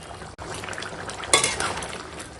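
Goat meat and fried potatoes cooking in a pot, a steady soft sizzle with a clatter of stirring partway through, close and without speech.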